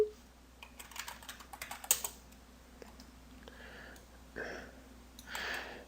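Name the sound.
typing on a computer keyboard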